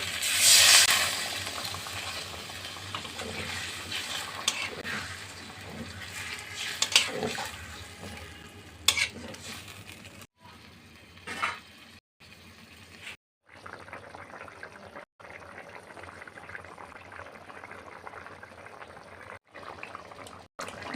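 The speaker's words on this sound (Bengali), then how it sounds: "মাছ মশলা কষানো হয়ে গেছে এখন আমি জল দিয়ে দেবো অল্প" Close sizzling and stirring of fish in a thick spice masala, followed by the fizz and bubble of a little water poured into the hot pan, with louder crackles early on and quieter, patchy sizzling after.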